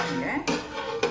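A metal pot lid is set down over a pot of simmering temple-style sweet pongal, giving two short, close clinks about half a second apart over a low background hum.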